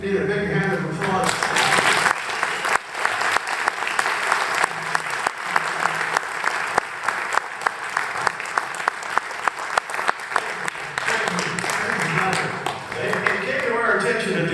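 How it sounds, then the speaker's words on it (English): Audience applause at a club's first-Friday talk on UFOs, a full room clapping loudly and steadily for several seconds, swelling and then easing off near the end. "I think we need a big hand of applause."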